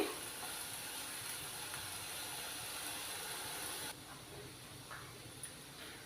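Masala paste frying in a pan for raw banana curry, a soft continuous sizzle and hiss that carries on steadily, quiet and close, with a few faint clicks near the end.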